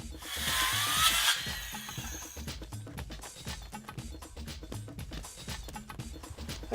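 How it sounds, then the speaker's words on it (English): A power saw cuts through SurePave plastic driveway pavers outdoors, a harsh close buzz for about two seconds followed by rhythmic rasping strokes and knocks as the cut continues. "SurePave pavers are easy to cut with a handsaw or a power saw"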